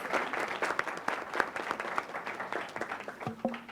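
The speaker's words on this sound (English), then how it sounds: "let's give her another round of applause" An audience at a regional tourism youth congress gives a steady round of applause, dense clapping from many hands at moderate distance lasting a few seconds.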